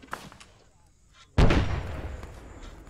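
A loud explosion as a weapons cache is blown up in the Vietnam-era Arma campaign, a sudden heavy boom after quieter moments with a long rumbling tail, with voices talking faintly before it.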